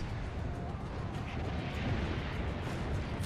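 Cannon fire in Assassin's Creed Brotherhood erupts as a loud, sustained explosive roar and rumble, filling the moment with dense, heavy noise.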